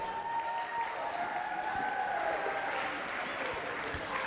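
Crowd applause at a school sports banquet for a girls basketball team, a steady wash of clapping held at even level throughout.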